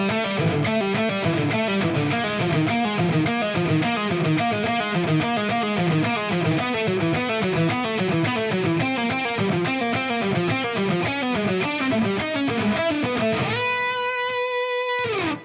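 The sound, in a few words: guitar picking pattern lick played slowly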